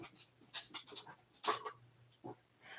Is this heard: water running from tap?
no